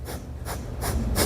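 A gentle nose-blowing demonstration: four soft, breathy bursts of air in a steady rhythm, close and moderately quiet, with no talk.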